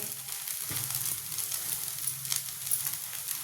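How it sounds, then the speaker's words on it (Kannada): Cucumber dosa with dill leaves fries in oil on a hot pan, a soft, steady sizzle with faint crackles, close and unbroken, and no voices. "ಇದನ್ನು ಸಹ ಉಲ್ಟಾ ಹಾಕಿದ್ದೀನಿ ಮೇಲೊಂದು ಸ್ವಲ್ಪ ಎಣ್ಣೆ"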